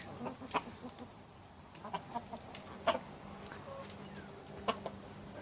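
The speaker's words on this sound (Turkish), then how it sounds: "Bu ikinci kurkumuzun Playmouth civciviydi." Plymouth Rock chick and chickens in a backyard coop, clucking in short scattered calls over a steady low farmyard hum, moderately distant.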